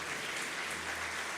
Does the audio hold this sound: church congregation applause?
yes